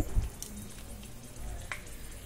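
Cumin, dried chilli and bay leaf temper in hot oil in a kadai, giving a soft, steady sizzle with light crackles and pops close by; a faint bump opens the clip and no one speaks.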